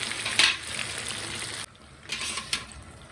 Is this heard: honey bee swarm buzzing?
no